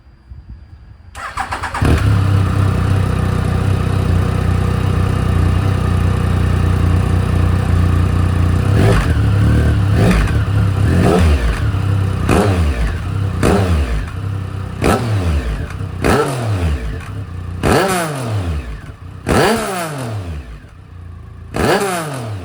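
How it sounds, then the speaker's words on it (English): A Triumph Sprint ST 1050 motorcycle with a new exhaust cranks and fires from warm, settles into a loud, steady idle, then blips its throttle in a string of sharp, rising revs that come faster toward the end, close up with no talking. "The first video is a warm start followed by revving the bike."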